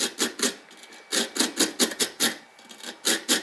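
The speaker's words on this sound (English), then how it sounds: "So when I'm cleaning the plugs up, just a wire brush here." A wire brush scrubs carbon off an outboard spark plug from a Honda BF50 motor, giving a rapid series of close, dry rasping strokes in an uneven rhythm with brief pauses, no voices.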